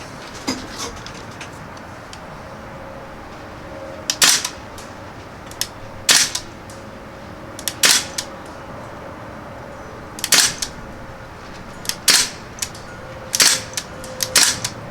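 A Crosman R1 full-auto air rifle firing BBs outdoors, sharp cracking shots in short irregular bursts over a faint background hiss, with birds cooing softly between shots.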